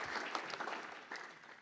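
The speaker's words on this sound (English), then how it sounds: "Could I get an applause, please?" Audience applause at a technical talk on coding animations from first principles, a short, fairly faint burst of clapping from a crowd that fades slightly toward the end.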